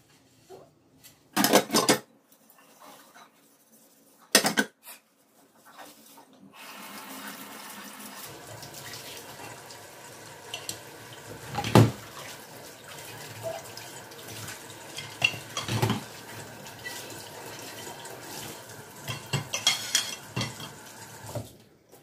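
Running water and clinking dishes in a sink, with intermittent sponge scrubbing and rubbing sounds, close by and moderately quiet.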